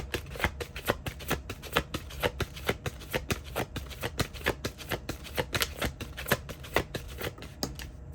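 Oracle cards are shuffled by hand in quick, regular riffling bursts, a steady rhythm of crisp slaps heard close and alone, without any voice.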